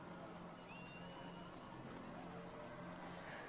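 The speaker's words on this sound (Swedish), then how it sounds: "Totalt är det ett 80-tal hästar som är med i denna kortege." Hooves of some eighty horses drawing a royal wedding procession, a dense steady clatter under crowd noise and a faint voice, continuous and at moderate distance.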